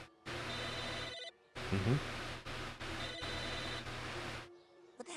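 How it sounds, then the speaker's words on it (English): A telephone rings in the video game Psychonauts, a steady electronic ring repeating in bursts with short gaps, moderately loud, with brief speech and a murmur over it. "A phone."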